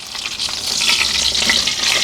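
Tilapia pieces frying in hot oil, a continuous bright sizzle and crackle that swells and pops throughout, close and loud, with no talking.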